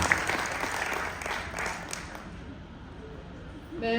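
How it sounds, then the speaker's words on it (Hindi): An audience at a song launch event in Lucknow claps loudly at first, then the applause fades out as a voice begins speaking near the end. "आप सभी एक बार दिल से ताली बजा के और आशीर्वाद दीजिए।"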